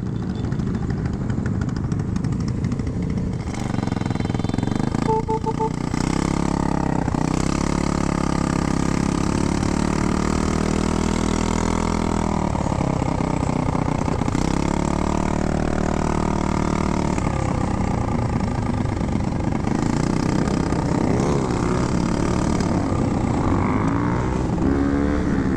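Car and motorcycle engines idle and rev throughout a busy car meet with burnouts and wheelies, a continuous loud rumble with surges of acceleration, no talk.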